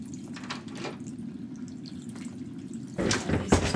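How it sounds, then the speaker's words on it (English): Filtered water pours from a tap or filter into a container, a steady close trickle with soft drips that turns louder and more splashy near the end as the vessel fills. "and then I will add water to fill"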